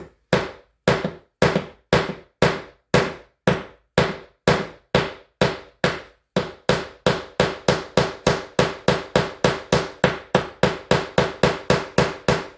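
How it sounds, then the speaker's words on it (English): Rapid ball-peen hammer blows on a saucepan lid handle rivet, evenly spaced and close, speeding up partway through into a quicker tapping rhythm, with no voices. "by using a ballpoint hammer, you're actually hitting the rivet in the middle"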